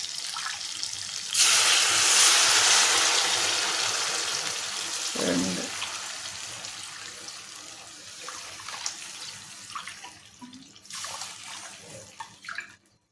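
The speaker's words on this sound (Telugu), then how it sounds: "1 గ్లాసు రవ్వకి, బొంబాయి రవ్వకి 5 గ్లాసులు వాటర్ వేసానండి" Water poured in a strong gushing stream into a pan of Bombay rava semolina for upma, then a brief clunk and a few smaller pours and trickles, close and fairly loud.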